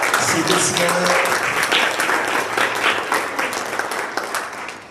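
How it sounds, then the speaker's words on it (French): An audience at a debate on housing breaks into loud sustained applause with some cheering, dense clapping that gradually tapers off, while a voice can be heard over it. "Est-ce qu'on peut acclamer remercier vivement ces décisionnaires"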